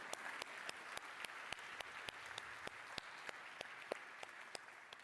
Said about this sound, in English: A huge round of applause to Squirrel